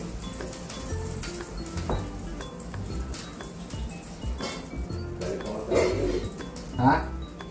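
Corned beef sizzles steadily in a pan on a home stove, with occasional clinks of a utensil against the pan and people talking nearby.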